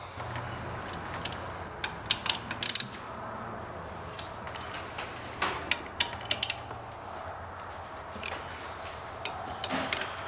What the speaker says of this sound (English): A lot of times when I torque stuff like this here, I choke up on the handle